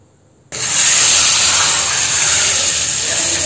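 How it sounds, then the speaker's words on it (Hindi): Hot tadka tempering poured into cooked chana dal, a sudden loud sizzling hiss that bursts in after a short quiet moment and holds steady, close and alone without voices. "आइए दाल में हम तड़का लगाते हैं"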